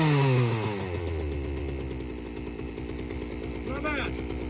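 A Poulan Wild Thing chainsaw engine idles steadily after a carburetor adjustment, a loud, close, continuous buzzing drone with a brief rev near the end.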